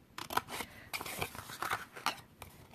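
Crafting scissors snip through thick foil paper in a series of close, crisp cuts, each with a bright crackly rasp, irregularly spaced over a few seconds.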